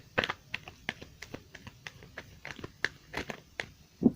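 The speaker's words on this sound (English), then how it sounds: "let's do a little bit more shuffle." Crisp, papery flicks and soft clicks up close, arriving in quick irregular bursts like cards being riffled and tapped together, with no voices.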